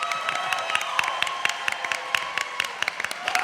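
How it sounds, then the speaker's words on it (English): Audience applause at a Hofstra forum on sustainability for the Nassau County Executive race, a steady wash of many hands clapping with scattered sharper claps standing out, filling the room at moderate loudness. "so you can applaud if you like this time."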